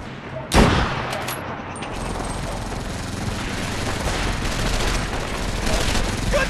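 Gunfire in a World War II video game: a sharp loud blast opens, followed by a dense, continuous roar of rapid shots and battle noise that carries on to the end.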